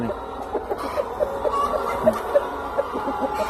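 A young rooster with developing spurs, one of a flock of about two hundred, gives a series of soft, repeated clucks close by over a low background hum.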